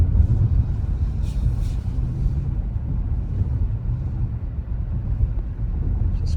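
A 2026 Tesla Model X cruising in traffic, heard from inside as a steady low road rumble with wind noise and no engine note, moderate and even throughout.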